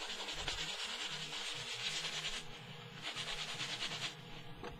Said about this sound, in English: I quickly rubbed off the excess granules